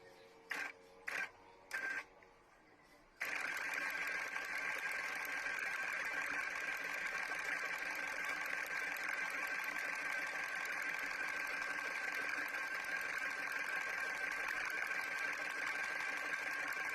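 A sewing machine runs steadily, stitching satin fabric for handmade flowers, after a few short start-stop bursts; the motor whirs loud and close, continuous for most of the stretch with no talk.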